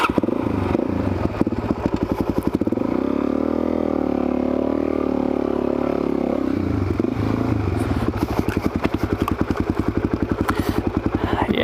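A supermoto motorcycle rides along a single-track trail, its engine buzzing and revving up and down close by, with clatter and scraping from the bike over rough ground.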